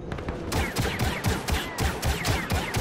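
Rapid gunfire in Star Wars Battlefront 2, a loud burst of closely spaced shots and blasts repeating steadily for a few seconds, with no talk over it.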